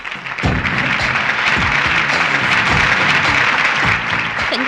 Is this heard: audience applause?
yes